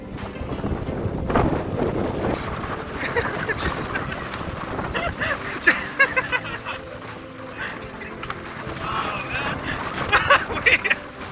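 Strong wind buffets the microphone throughout a kayak trip on open water toward Osea Island, with waves rushing and splashing around the boat in sporadic louder bursts.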